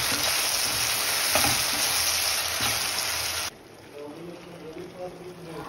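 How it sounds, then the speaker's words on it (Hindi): Ground masala with Kashmiri red chilli and turmeric fries in oil in a pan, a loud, dense sizzle that drops suddenly to a softer, bubbling fry partway through, heard close and alone. "हल्दी और मसाले को अच्छे से फ्राई करना है जब तक ये ऑयल ऊपर ना आ जाए।"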